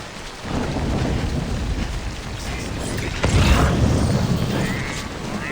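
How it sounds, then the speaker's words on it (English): Rain and thunder in the video game Death Stranding, with steady loud rainfall throughout and a sharp thunder crack near the middle that rolls off slowly. "the weather is rainy"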